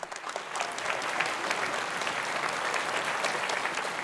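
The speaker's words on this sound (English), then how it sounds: "Why don't we give them a round of applause for supporting the program?" An audience at a multiple sclerosis program gives sustained applause, a dense, even clapping from many people filling the room without a break.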